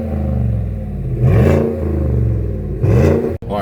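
A 2017 Chevy Silverado with a 5.3 V8 and a Corsa cold air intake accelerates on a test drive. Its steady engine drone swells into two loud revving surges a second or so apart, heard from inside the truck.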